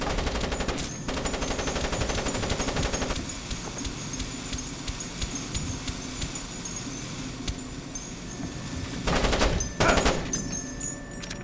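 Turret machine-gun fire in the stealth video game Splinter Cell, a dense rattling burst that keeps going for several seconds, then stops and gives way to quieter ambience before sharp bursts break out again near the end.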